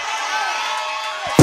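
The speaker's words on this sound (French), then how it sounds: "Les enfants, poussez des cris." A church congregation shouts and cheers together at a worship service, a sustained crowd roar of voices with rising whoops, ending in a sudden louder burst.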